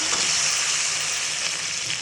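Steady, loud sizzling as water is added to a hot pan for a shrimp dish, a continuous bright hiss with no pauses and no talking.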